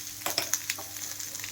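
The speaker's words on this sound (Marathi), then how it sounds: "इकडे थोडंसं हे वाळलेलं खोबरं ते इकडे भाजून घेणार आहे" Dried coconut pieces roast in a pan for a mutton sukka masala, crackling softly under a few quick stirring scrapes in one brief, fairly quiet burst.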